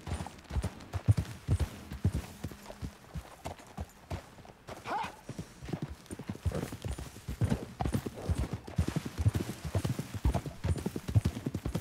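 Clip-clopping hooves of a horse galloping in Red Dead Redemption 2, a steady close rhythmic pounding that runs throughout, with a brief whinny-like sound and a little background talk.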